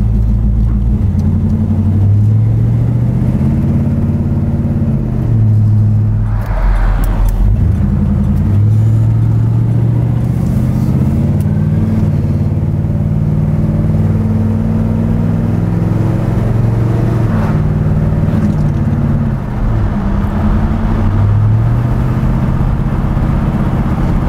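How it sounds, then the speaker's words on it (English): A car fitted with Ridetech StreetGrip suspension accelerates along a straight main road, its engine rising and falling through several gear changes in a steady, loud, close interior rumble with no voices. "So we'll get out of here and get on the main road, speed up a little bit more."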